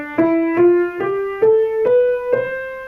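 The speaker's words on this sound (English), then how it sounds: "A major scale sounds like this." Piano playing a major scale: six evenly spaced single notes rising step by step, each struck clearly and ringing, close and fairly loud with nothing else heard.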